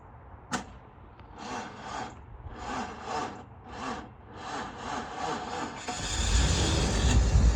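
A car engine cranks with a repeated whirring starter rhythm, several rising-and-falling pulses, then catches and settles into a loud, steady running roar near the microphone, with no voices.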